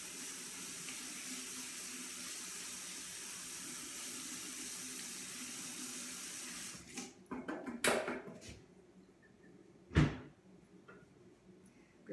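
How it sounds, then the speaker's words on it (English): Running tap water pours steadily into a kitchen sink while hands are rinsed, a close continuous hiss that stops partway through, followed by a few knocks and clatters. "Rinsing hands again."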